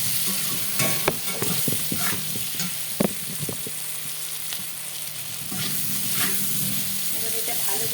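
Taro pieces fry in hot oil with salt and turmeric, giving a constant close sizzle broken by scraping, clattering strokes of a spatula stirring the pan.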